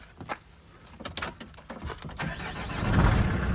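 A van engine cranks in short bursts and then catches, settling into a rising, steady running rumble, close by and fairly loud.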